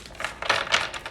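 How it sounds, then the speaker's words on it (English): A deck of tarot cards is shuffled by hand, a quick series of soft papery riffles and flicks, close and brief, with no one speaking. "I just felt like just one more shuffle."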